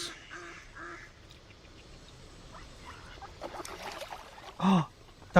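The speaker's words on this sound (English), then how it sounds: "Oh, duck fight." Ducks squabble and quack in a fight, scattered calls building to one loud, near quack and a sharp final squawk, over faint outdoor ambience.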